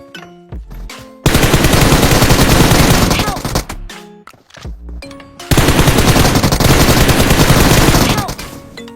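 Loud bursts of automatic gunfire from a PUBG Mobile match, fired while the character drops prone: two long sustained volleys separated by short pauses with a few single shots, close and dense.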